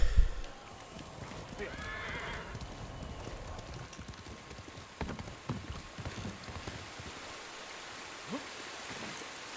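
Rhythmic hoof clip-clop of a horse running in the video game Ghost of Tsushima, steady and moderately loud, with a brief voice at the start and outdoor background noise.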